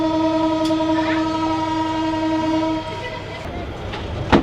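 The Benapole Express running between Faridpur and Dhaka, a long sustained horn blast over the rolling rumble of the carriages, then fading into clatter with a few sharp clicks.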